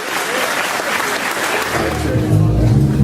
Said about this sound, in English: Let's get a round of applause for yourself and the high and mighty Jesus Christ.